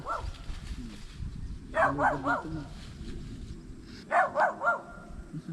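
A dog barks in two short bursts of three or four barks each, fairly close, over a steady background of low outdoor rumble.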